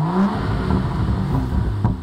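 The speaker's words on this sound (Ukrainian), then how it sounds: "Послухайте, як звучить ця машина ще раз, коли заводиться." A BMW X4 M40i engine starts and runs with a deep, throaty rumble, revving steadily at close range with a slight surge near the end; no voices.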